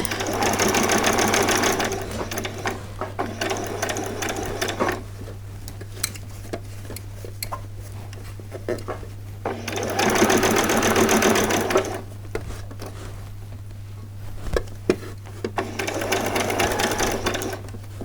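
A sewing machine stitches a sleeve onto a set of vet scrubs in bursts of steady whirring, several runs separated by pauses, with a constant low hum underneath throughout.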